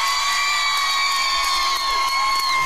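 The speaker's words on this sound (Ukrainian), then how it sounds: "Хто хоче, щоб перший хіт заспівала дівчина, ваші оплески дівчині?" Karaoke crowd at an outdoor square cheering and whooping loudly for a girl singer, a steady dense roar of voices with high shouts sustained throughout.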